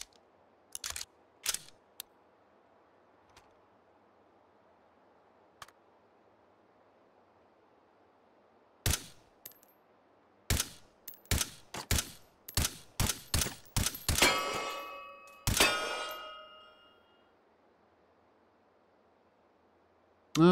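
Gunshots ring out in Hot Dogs, Horseshoes & Hand Grenades, aimed at a tree: a few isolated sharp cracks, then a quick irregular string of loud shots followed by a metallic rattle, with quiet pauses between and no talking.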